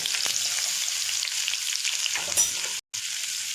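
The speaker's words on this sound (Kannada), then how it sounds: "ಇದನ್ನು ಕೆಂಪಗಾಗೋವರೆಗೂ ಹುರಿಬೇಕು ಚೆನ್ನಾಗಿ" Sliced onions and curry leaves sizzle steadily in a hot pan, a dense continuous crackle with occasional stirring scrapes, close and uninterrupted, briefly cutting out near the end.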